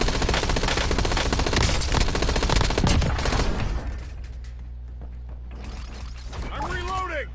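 Incoming gunfire in the Call of Duty Warzone video game, a dense loud stretch of rapid automatic shots for several seconds, then fading to a lower rumble as a voice speaks near the end.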